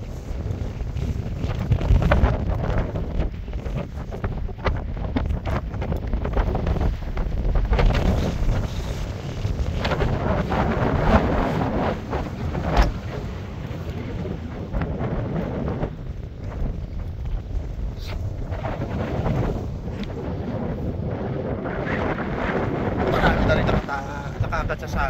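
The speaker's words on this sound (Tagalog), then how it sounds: "Grabe lakas ng hangin dito sa Mount Pulag." Strong wind on Mount Pulag blasts across the mountainside in heavy gusts, a loud roaring buffet against the microphone that rises and falls throughout, with people talking intermittently under it.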